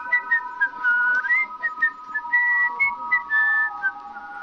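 Melodic whistling by someone on a swing carries a steady tune in short rising and falling phrases, close and clear, with no voices.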